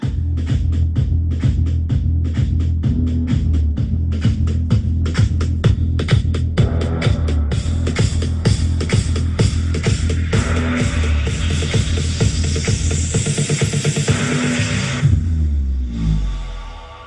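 A cheap 200mm subwoofer thumps deep, booming bass pulses in a fast steady rhythm, loud and heavy, with rattling buzz layered in before the sound drops away at the end.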